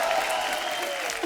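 Applause for the full star cast of The Fame Game on a TV comedy show stage, a dense steady wash of clapping from a studio audience, briefly rising and falling.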